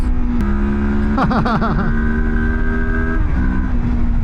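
A Moto Morini X-Cape 700 motorcycle accelerates up a mountain road, its engine note climbing steadily, wobbling through a quick rev change, then settling into a loud, sustained drone close to the rider, with heavy wind rumble underneath.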